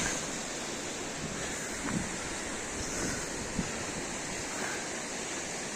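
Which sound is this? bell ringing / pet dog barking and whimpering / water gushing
water gushing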